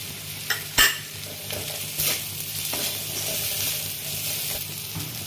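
Fried onions with chili and cumin powder sizzle steadily in a pan, stirred with a few sharp scraping clicks near the start, then a continuous close frying hiss with no voices.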